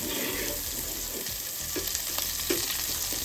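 Soft Salisbury steak patties fry in a pan, a steady loud sizzle close up with a few light scraping and clinking touches from a utensil, no one speaking.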